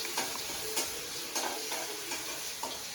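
Onion frying in a pan just after cumin seeds went in: a steady soft sizzle with periodic scraping stir strokes roughly every half second, close and fairly quiet, no talking.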